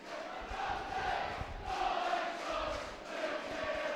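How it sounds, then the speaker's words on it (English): Home fans at a Dundee versus Clyde First Division football match singing together in a stadium, a swelling and ebbing chant that rises in waves over roughly four seconds, heard without commentary. "And Dundee crowd singing along now"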